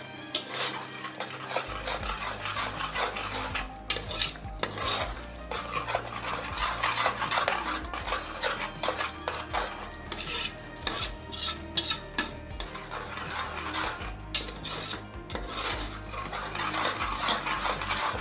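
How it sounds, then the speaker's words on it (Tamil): A spoon stirring channa pulao rice mixed with curd in a pot, repeated scraping and clinking of metal against the pan in an uneven rhythm, continuing steadily with no talking. "நல்லா கிண்டி விட்டுக்கணும்"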